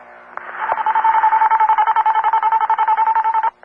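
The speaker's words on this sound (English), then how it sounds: "In France, after you've dialed and your call is going through the French network, you'll hear this tone." A French telephone network call progress tone: a rapid, steady series of short, evenly pulsed beeps at one pitch that runs for about three seconds, loud and clear with no talking over it.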